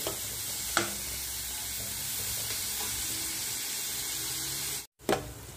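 Chopped onion and green chili sautéed in oil, giving a steady gentle sizzle with a couple of distinct spoon knocks, one just after a brief dropout near the end, close and without voices.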